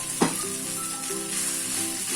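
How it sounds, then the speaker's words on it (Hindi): Garlic pieces and boiled noodles fry in hot oil, a soft, continuous sizzle with one brief clatter near the start and a faint low hum underneath. "डाल लिया था ये अपने गार्लिक के क्लोव्स के थोड़े बहुत पीसेस, तो वो मैं इसमें डाल रही हूँ"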